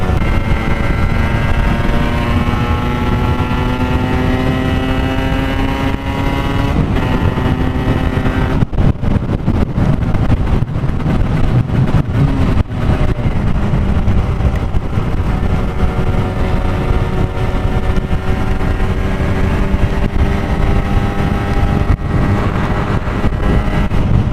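A 125cc Aprilia RS 125 motorcycle engine revs up hard and high to about 7,000 rpm, its whine climbing steadily in pitch over a constant roar, close and loud throughout.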